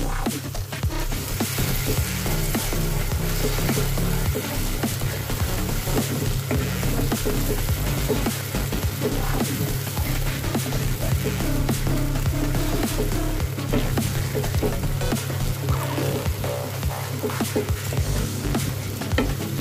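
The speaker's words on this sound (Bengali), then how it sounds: "ভালো করে এটা কষিয়ে নেব, তেল ছাড়তে দিতে হবে।" Paneer masala with beaten yogurt fries in oil in a mustard paneer dish, giving a dense, loud, constant sizzle with stirring and scraping close by and no one speaking.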